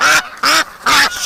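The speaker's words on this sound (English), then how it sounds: "Relax, duck." A captured duck patient gives three loud, close, raspy quacks in a steady rhythm, each call cut off sharply and separated by brief quiet gaps.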